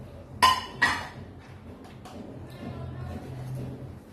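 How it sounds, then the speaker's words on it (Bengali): Pieces of teasel gourd tipped into a kadai land with two sharp clattering hits close by, followed by a low, quiet kitchen background. "কড়াইয়ের মধ্যে আমি কাঁকরোলগুলো দিয়ে দেবো।"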